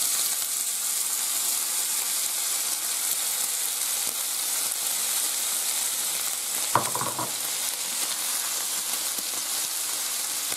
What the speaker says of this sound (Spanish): Ya se ha calentado y echamos el bacon.